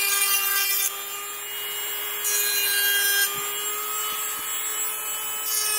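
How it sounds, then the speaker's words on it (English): Small Dremel rotary tool sanding the sharp edges of a wooden holiday sign, a steady high-pitched whine with a grinding rasp that rises and drops in pitch and intensity over several seconds, close and alone. "I love this little handy Dremel tool right here. So it's going to make a little bit of noise"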